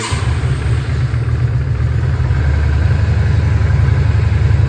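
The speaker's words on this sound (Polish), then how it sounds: "Bardzo ładna praca silnika." Yamaha XV motorcycle engine started with the choke on, firing up then settling into a loud, steady, even idle thrum close by, with no voices.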